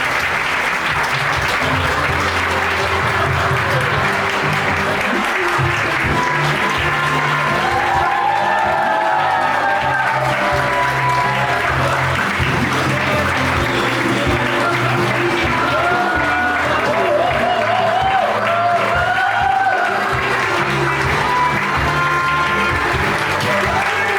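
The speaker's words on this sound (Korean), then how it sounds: "신랑이 입장할 때 큰 박수로 환영해 주시기 바랍니다" Sustained applause from a wedding audience as the groom enters a church ceremony hall, loud and steady throughout with scattered voices and a few whoops mixed into the clapping.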